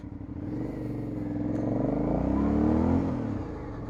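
An Aprilia Shiver 900 motorcycle engine catches and settles into a loud, close, throbbing idle, its low rumble swelling slightly before easing back, with no talk over it.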